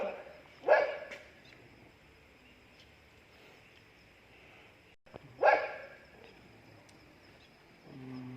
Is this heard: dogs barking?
yes